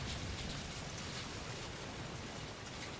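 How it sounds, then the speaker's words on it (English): Steady rain patters on crates in the Battlefield 2042 open beta, a dense, even hiss of drops lasting the whole stretch, close and moderately loud, with no talk over it. "I love how they have the sound of the rain hitting the crates."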